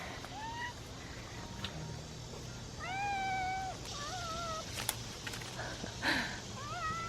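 A cat meows several times in a garden, with short rising calls at moderate distance over steady outdoor ambience.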